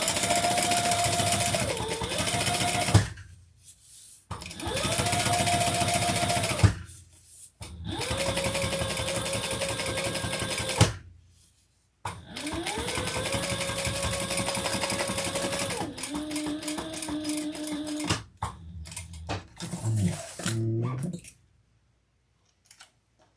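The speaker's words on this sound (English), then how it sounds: "We're going to top stitch on the top lining piece" A sewing machine top stitches the top lining piece of a hobo bag, running in several long steady bursts separated by short pauses, with the motor pitch shifting slightly between runs and a few brief stops and starts near the end.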